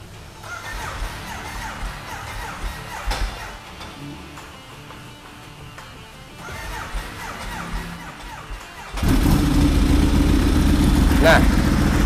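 A Ducati Streetfighter motorcycle engine idles loudly, a steady low rumble that jumps louder near the end and holds, with background noise underneath.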